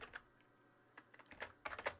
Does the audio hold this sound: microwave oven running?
no